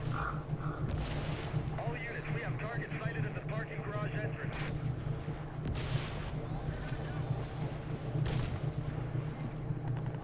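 Gunfire in the shooter game Crysis 2 on a parking garage multiplayer map, steady crackling shots and booms layered over a low droning game soundtrack, with a person talking across it.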